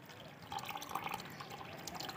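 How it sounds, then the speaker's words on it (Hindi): Liquid hydrochloric acid poured into a container holding a little water during gold recovery from scrap mobile phones, giving a soft continuous trickling and dripping pour, fairly quiet and alone. "ये नमक का तेज़ाब है हम इसमें डाल रहे हैं ताकि ये नमक के तेज़ाब से वाश हो जाए।"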